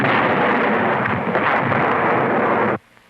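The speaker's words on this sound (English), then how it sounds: "This is a 5-room house and the effect of 50 pounds of dynamite." Fifty pounds of dynamite blows apart a five-room house in one huge, loud blast with a long rumbling roar that cuts off abruptly after about three seconds.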